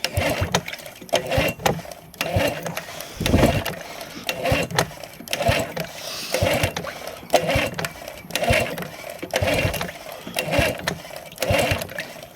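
An outboard motor is cranked repeatedly by its pull-start cord at full throttle during a cylinder compression test, giving a rhythmic, chugging mechanical churn that runs steadily and fairly close for the whole stretch, with no talk.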